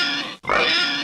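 A loud, close pig oink sound effect, two gruff grunting snorts split by a brief gap of silence, with no voices.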